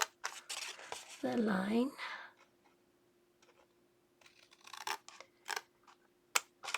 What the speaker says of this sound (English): I like to do is cut the score line out